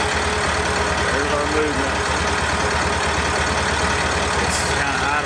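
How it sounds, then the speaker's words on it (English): A Massey Ferguson 240 tractor engine idling near the listener, a steady low diesel rumble that runs throughout while someone speaks over it. "Idle's about 750 on this tractor."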